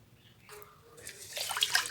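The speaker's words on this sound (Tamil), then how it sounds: "முதல்ல வந்து ரேசன் பூங்கல் அரிசியை ஒரு தடவை கழுவிட்டு நம்ம நல்ல தண்ணி ஊற்றி ஊற வைக்கலாம்" Water is poured into a vessel while ration parboiled rice is being washed, starting faint and swelling into a louder splashing rush near the end.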